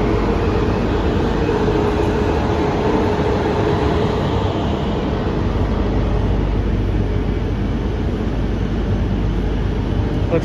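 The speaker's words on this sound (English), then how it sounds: "the train we're about to ride is a CP 2300 series" A CP 2300 series electric commuter train on a Lisbon line rumbles steadily with a constant low roar and rail noise throughout, close and loud, with no voices.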